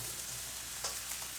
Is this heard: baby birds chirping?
no